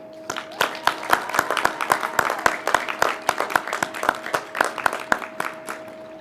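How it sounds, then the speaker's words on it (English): An audience at a 2021 graduation ceremony applauds, with dense, steady clapping from many hands and a few sharp individual claps near by, while a faint murmur runs underneath. "Let's give another huge round of applause to our student leaders, Adrian, Amanda, and Gavin."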